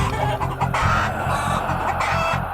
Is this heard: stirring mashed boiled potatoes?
no